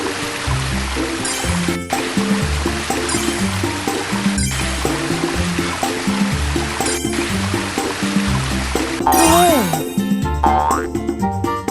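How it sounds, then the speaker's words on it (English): Cartoon-style pouring as water is tipped onto garden flowers, a bubbly liquid stream with playful boing-like tones over steady background music, ending in a brief rising splash. "Water the flowers so they can bloom."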